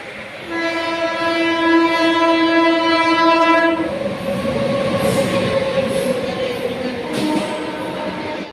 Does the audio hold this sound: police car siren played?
no